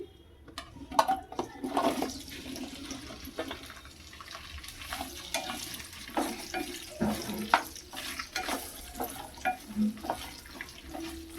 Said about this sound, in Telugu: ఆయిల్ అయితే సరిపడా వేసుకున్నానండి ఇప్పుడు బెండకాయ ముక్కలు అయితే దీంట్లో వేసేసుకుందాము